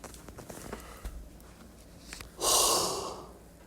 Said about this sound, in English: I just yawn.